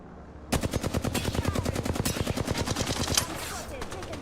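Video game gunfire rattles in long rapid automatic bursts, loud and close, the rhythmic shots running almost continuously with a few heavier cracks and faint background sounds underneath.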